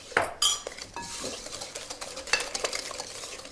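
A hand whisk clatters and scrapes in a bowl of Bakewell tart mixture, giving a few sharp metallic knocks followed by irregular stirring and tapping, close and fairly quiet.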